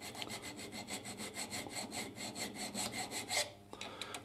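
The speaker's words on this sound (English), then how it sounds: "Before I start machining, I think I'll just clean out the slots a little." Rapid, steady scraping strokes as a tool cleans debris out of the slots of a machine vise, about twenty quick rubbing passes up close before a brief metallic clink and quieter handling at the end.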